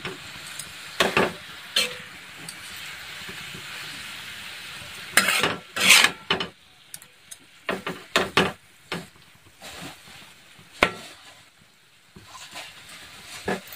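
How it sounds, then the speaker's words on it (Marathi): Fenugreek leaf curry being stirred and mixed in a pan, with irregular scraping and knocking strokes of the spoon over a faint sizzle, bursts clustered and then pausing; no voices. "परत छान मिक्स करून घेऊ"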